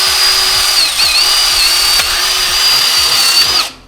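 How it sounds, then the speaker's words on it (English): A power drill whines loudly and steadily while boring a hole to fit an alarm sensor, its pitch dipping briefly as the bit bites, then spins down and stops. "I'm going to get the drill, piece of 2-bit, I'm just going to send that"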